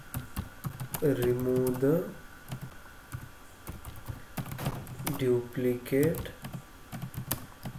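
Typing on a computer keyboard while writing a program, rapid close clicking bursts that run under a man's speech and continue between his phrases.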